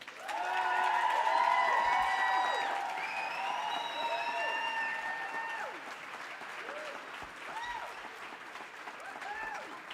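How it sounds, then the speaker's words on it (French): A live podcast audience greets Max with loud applause and cheering, dense clapping under whoops and voices that swells early then gradually thins out. "veuillez faire un tonnerre d'applaudissements, s'il vous plaît,"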